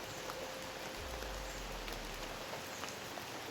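Rain falling steadily in a forest, a soft, even hiss of drops spread across the whole scene, faint and continuous with no voices.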